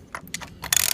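Socket wrench with a 15/16 socket tightening the oil drain plug on a Jeep Grand Cherokee, a quick series of close metallic ratchet clicks ending in a rapid burst.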